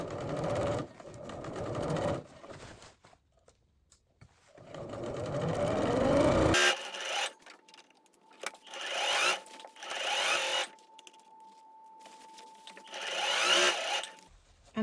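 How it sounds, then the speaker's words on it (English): A sewing machine stitches the first straight line of a beginner skirt in repeated runs of steady whirring, with pauses between bursts, close and fairly loud. "if you've sewn a few stitches, you can let go and then sew that first line."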